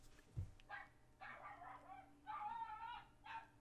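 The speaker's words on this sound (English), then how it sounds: "Dogs are barking outside." Several dogs barking outdoors at a distance, a few separate bark bursts at moderate level with faint background, no talking.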